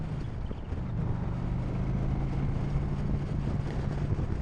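Steady wind rush and buffeting on a 2016 Honda Shadow Phantom motorcycle ridden without a fairing, with a low engine drone running underneath the whole time.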